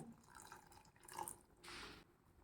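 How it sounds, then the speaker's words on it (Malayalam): Ground coconut water is poured into a simmering cucumber theeyal curry, giving a soft splashing gush near the end. Faint drips and kitchen noise come first; the sound is quiet and close, with no talk. "കുറച്ച് തേങ്ങ അരച്ച വെള്ളം കൂടി ഇതിലേക്ക് ചേർത്ത് പാകത്തിനുള്ള അയവിലാക്കി എടുക്കണം."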